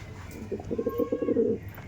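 Andhra breed pigeons coo in a short run of soft, rolling, pulsing calls close by, rising for about a second before fading into a quiet background.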